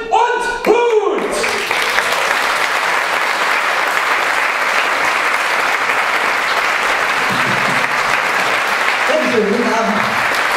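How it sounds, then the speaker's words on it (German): Warm, sustained applause for prize winners at a chanson festival in Potsdam, a thick continuous clapping crowd lasting several seconds, with a presenter's voice at the start and faint talk near the end. "begrüßen Sie mit einem herzlichen und stürmischen Applaus die frisch gebackenen Preisträger des Potsdamer Chansons Festival Grün und Gut"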